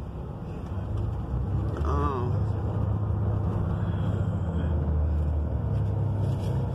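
A Greyhound bus rolls through downtown Mobile, Alabama with a steady low engine and road rumble, and a brief whining tone rises near the start. Speech seems faintly present under the drone.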